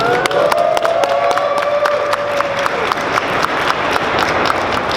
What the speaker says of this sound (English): give the Javits Center a massive round of applause